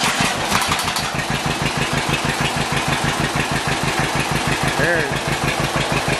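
An old John Deere tractor engine idles close by, a rapid, steady chugging pulse with heavy knocking beats, while someone speaks briefly over it.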